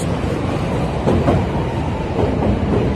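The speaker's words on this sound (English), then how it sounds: "Sorry, I forgot about the train." A passing train rumbles steadily nearby, a loud continuous roar with faint rhythmic clatter of wheels on rails throughout, no voices.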